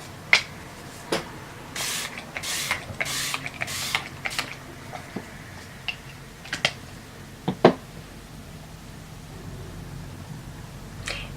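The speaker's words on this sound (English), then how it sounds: "go in with the Rimmel Stay Matte Fix and Go 2-in-1 primer and setting spray" Several short hissing sprays of Rimmel Stay Matte Fix and Go primer and setting spray burst early on, followed by quieter clicks and light handling noises in a calm room.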